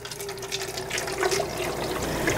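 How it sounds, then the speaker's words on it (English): Water runs into a large canning pot holding jars of chili, a steady splashing, gushing stream, close and continuous with no voices. "I will add my water."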